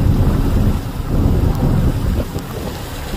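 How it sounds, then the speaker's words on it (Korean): Heavy spring rain on Saryangdo island in Korea, a dense steady rushing roar mixed with strong gusting wind buffeting the microphone, loud and continuous with no voices. "비가 많이 내리는데요"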